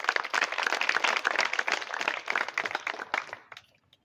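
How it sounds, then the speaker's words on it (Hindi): A village audience at a night-time rural gathering claps together, a dense burst of close, sharp hand claps lasting about three and a half seconds before thinning out and stopping. "एक बार अपने लिए तालियां बजा दो आप।"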